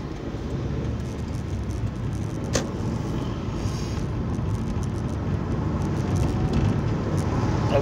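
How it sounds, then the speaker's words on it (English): A car drives along a road through the grounds of RNAS Culdrose airbase near Helston, a steady close interior engine and road rumble holding throughout with one short click partway. "I am driving through the road that legally goes through the base"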